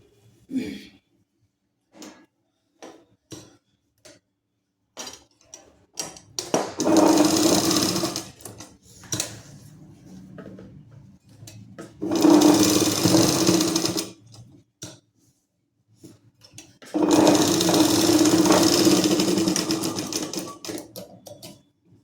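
Sewing machine stitching salwar fabric, running in three separate bursts of fast, steady whirring, each a few seconds long, with quieter pauses and small handling clicks in between.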